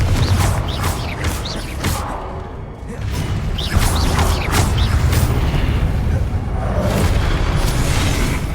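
A Confringo blasting spell in Hogwarts Legacy bursts in a loud, booming explosion with crashing, creaking debris, followed by a continuous rumbling din of game effects.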